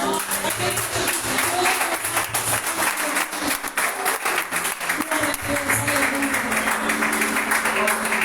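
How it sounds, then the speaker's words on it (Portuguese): A church congregation applauds during a Pentecostal Sunday service, with steady dense clapping filling the room while voices carry on over it. "Aplaudindo aquele que é de toda honra"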